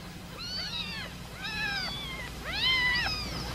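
Three drawn-out cat meows, each rising then falling in pitch, spaced evenly over a low steady background hum; close and clear.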